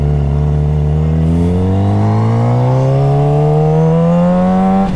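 A Suzuki GSX-R motorcycle nearing 10,000 miles, ridden hard on the road. The engine drones loud and close, its pitch rising steadily as it accelerates through one long pull.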